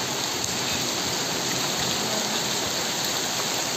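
Heavy rain pours down in a thunderstorm, heard from a balcony at night as a dense, loud, unbroken hiss of water drumming on surfaces, with no voices.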